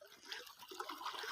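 Water from a natural spring flowing steadily, a soft continuous trickling and splashing heard fairly close with no talk over it.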